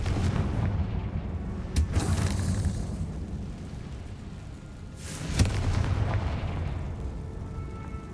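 The Confringo blasting spell in Hogwarts Legacy fires two sharp explosive booms, one near the start and one later, each trailing off into a rumbling decay over a low ambient bed of game sound.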